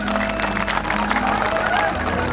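A crowd at an annual fair honoring Bapu Ami Chand claps loudly and steadily, a dense, continuous patter over a sustained musical drone, with some voices mixed in.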